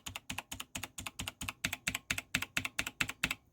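Keystrokes on stock Razer Blackwidow Elite keycaps, some fitted with O-rings, make a steady series of about fifteen crisp, evenly spaced clacks, close and clear with no talking.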